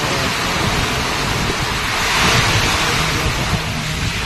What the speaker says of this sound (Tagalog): Lakas ng ulan, grabe guys.